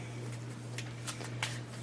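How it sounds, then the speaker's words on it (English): Tarot cards shuffled by hand in a quiet room, giving soft, irregular riffling and sliding bursts close by, with no talking over them. "while I'm shuffling, I'll talk about it"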